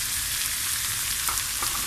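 Peppers frying in a pan for a koshary-style macaroni dish make a loud, continuous sizzle close by, with a few brief sharper crackles as they are stirred.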